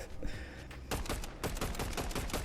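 A burst of rapid gunfire in Fortnite, several sharp shots in quick succession after a brief lead-in, loud and close with no talking.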